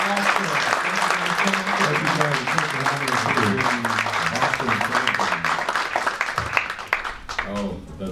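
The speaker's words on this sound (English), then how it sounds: "Let's give a big round of applause." A convention Q&A audience breaks into applause, a crowd of clapping hands under a speaking voice and overlapping chatter throughout.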